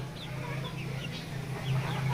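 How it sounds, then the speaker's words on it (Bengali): Fayoumi and Tiger chickens, a hen and a rooster kept with Desi birds on a farm, give short soft clucks and chirps over a steady low hum. "এক পিস মুরগি এক পিস মোরগ"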